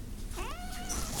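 A domestic cat gives a single close, clear meow that rises and then falls, alone with no talking over it.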